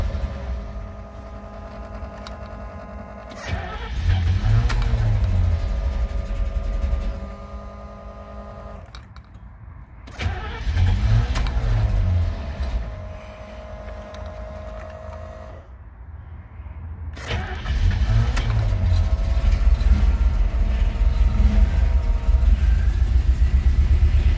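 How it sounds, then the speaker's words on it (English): The engine of a Kodiak C6000 U-Haul truck with old gummy fuel cranks and starts three times, each attempt a rumbling surge that fades before the last catches and keeps running, close and loud. "So we hit the ignition here"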